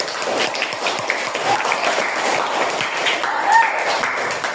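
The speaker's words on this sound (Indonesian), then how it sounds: "Tepuk tangan untuk Rafiq." A classroom of schoolchildren claps for a student, a steady, dense patter of many small hands close by that carries on evenly for several seconds.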